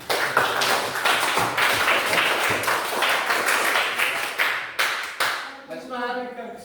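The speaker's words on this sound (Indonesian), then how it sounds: "Oke, tepuk tangan." A classroom group applauds during a Bible lesson on the Holy Spirit, with loud, dense, continuous clapping for several seconds before it thins out. A voice is briefly heard near the end.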